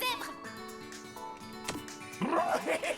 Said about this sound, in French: Désolé pour le chien qui aboie, c'est dehors.